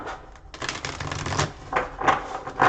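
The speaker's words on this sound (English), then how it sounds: "I'm going to shuffle that again." Tarot cards being shuffled by hand at close range, quick riffling bursts with crisp snapping clatter, repeating several times in short bouts with brief pauses between.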